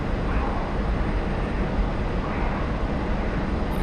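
A MiG-15bis jet in the DCS flight simulator gives off a loud, steady roar that stays even and unbroken throughout, with no voices.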